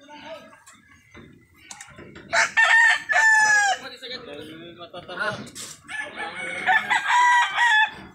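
Roosters crow loudly and nearby, several long calls in a row, with clucking hens and people talking in the background.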